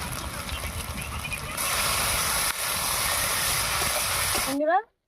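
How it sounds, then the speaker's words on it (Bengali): Onion, ginger, garlic and tomato fry in a pan for a chicken and papaya curry. A continuous broadband sizzle grows louder partway through, then stops abruptly near the end after a short chirp-like squeak. "পেঁয়াজটা একটু ভালো করে কষিয়ে দিচ্ছি টমেটোটা এবার দিয়ে দিচ্ছি"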